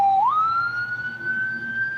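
An ambulance siren nearby winds upward in pitch, then holds a long steady wail, loud and alone with a faint rumble beneath.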